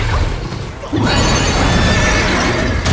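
A horse neighs loudly in the action game Black Myth: Wukong, a sustained, rough whinny that bursts in after a quieter opening and carries on for about two seconds amid crashing game effects.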